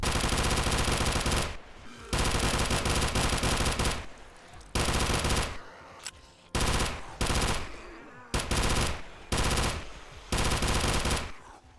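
Pistol-caliber weapons firing in the 7 Days To Die video game: loud, close bursts of rapid automatic fire in several long strings separated by short gaps, with no talking.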